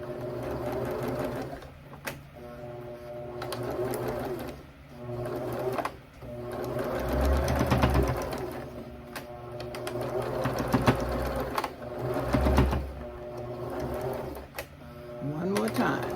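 A sewing machine stitches a drawstring backpack in short bursts of rapid mechanical whirring, stopping and starting for back stitches, with a person talking in between and over the runs.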